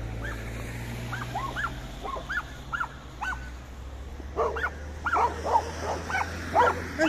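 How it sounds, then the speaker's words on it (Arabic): Several dogs bark and yip in repeated bursts at a moderate distance outdoors while walking near home, sharp calls scattered over a steady low hum, growing busier toward the end. "نبحو عليهم الكلاب"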